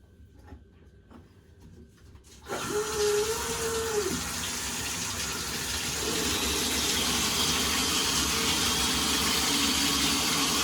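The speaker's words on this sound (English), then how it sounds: "So now I am going to be running the water" A faucet runs into a bath being drawn for a spiritual bath. After a few quiet seconds with a brief squeak, the water bursts on into a loud, steady gush that keeps pouring and grows slightly fuller.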